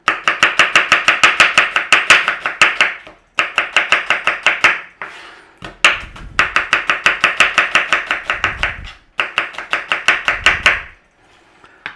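A knife slicing onions on a cutting board for caramelizing, giving quick rhythmic runs of crisp chops in four bursts separated by short pauses, close and loud with no voices.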